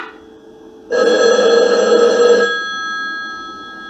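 An old-fashioned telephone bell rings loudly in a sustained metallic burst of about a second and a half, then fades to a lingering hum, heard alone without voices.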